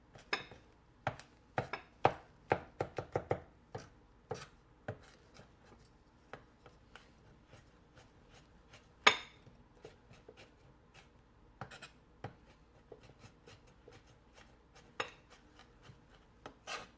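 Fresh garlic is chopped with a knife during meal prep, giving quiet, irregular taps on a cutting board, sometimes in quick bursts and sometimes spaced out, with one sharper knock partway through.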